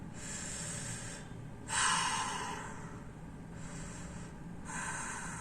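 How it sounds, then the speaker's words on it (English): A person breathes in and out slowly while following a guided breathing exercise on a Huawei Watch Fit smartwatch, giving several soft, airy inhale and exhale bursts close to the microphone, with no talking. "It is asking me to inhale and exhale."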